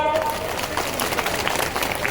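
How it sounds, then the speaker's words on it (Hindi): A crowd at a beneficiary conference in Chanderi claps in a thin, scattered patter for about two seconds, steady and moderately loud, with voices mixed in. "तालियां अभी भी कम बज रही है"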